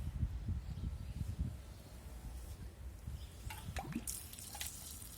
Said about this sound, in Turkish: Şöyle bol bol su vereyim